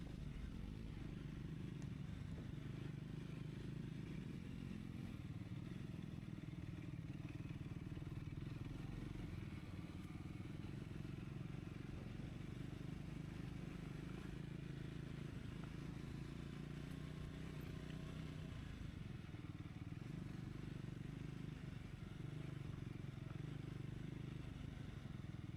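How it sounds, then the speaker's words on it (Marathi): A Triumph Scrambler 400X rumbles steadily on an off-road trail in off-road mode, its engine droning low and constant for the whole stretch, with faint clatter and scraping from the rough ground beneath. "आणि ऑफ रोड मोडवर टाकल्यावर थोडी वेगळीच मजा येते बाईक चालवायला"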